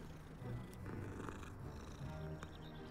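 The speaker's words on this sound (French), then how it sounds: "Ça ronronne." A cat purring in the video game Hogwarts Legacy, a continuous low rhythmic rumble with a few soft clicks, close and steady, with no speech over it.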